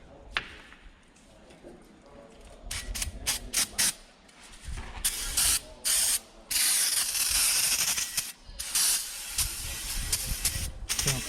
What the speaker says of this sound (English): this one I'll kind of just spray on and then wipe off as I go here